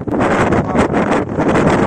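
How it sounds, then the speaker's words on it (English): Strong coastal wind buffets the microphone at Cabo da Roca on the Portuguese coast, a loud continuous roar with gusty swells and no voices. "really windy."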